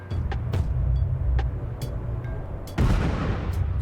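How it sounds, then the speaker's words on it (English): A terrorist demolition charge blasts through an outer wall with a sudden loud, broadband boom that lingers in a rumbling wash of debris, following a stretch of low, rumbling ambience scattered with faint sharp clicks. "Suddenly there was an explosion."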